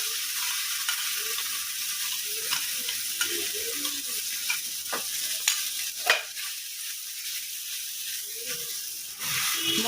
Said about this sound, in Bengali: কাঁচামরিচ আর পেঁয়াজটাকে না একটু ভাজা ভাজা করে মশলা দিয়ে দিলাম